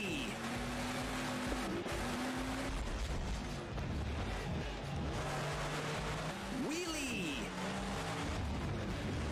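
Monster truck engine roar and tire noise in the video game Monster 4x4: Masters of Metal, a constant revving drone with shifting pitch and brief tire squeals, under a steady mix of game sounds and a voice talking.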